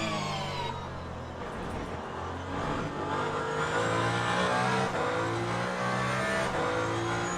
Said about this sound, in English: You can hear then the hybrid kicking in